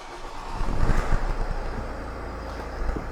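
A Renault car with a non-start fault finally runs, its engine settling into a steady, quiet, low idle rumble with faint airy noise and no talk.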